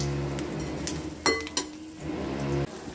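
A spoon scrapes and clinks against a pan while fried okra is mixed into masala, with a few sharp metallic knocks over a low background hum.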